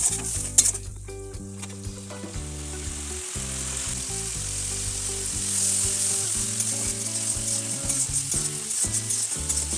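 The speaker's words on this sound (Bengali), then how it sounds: "সমস্ত কিছু ভাজতে থাকবো আর কড়াই যেন লেগে না যায় তার জন্য সামান্য একটু জল দিয়ে দিলাম।" Peas, potatoes and spices frying in a wok with a splash of water, a continuous sizzle under a steady musical backing, with occasional stirring clinks.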